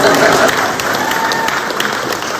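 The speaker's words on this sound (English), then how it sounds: "Are you guys going to clap?" An audience at a museum talk breaks into applause, a dense burst of clapping from a crowd indoors that gradually thins out.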